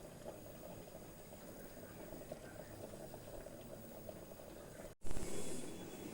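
Payesh of milk and rice boiling slowly in a pot, a soft continuous bubbling simmer heard close, cut by a brief sharp clatter near the end followed by a louder rushing hiss.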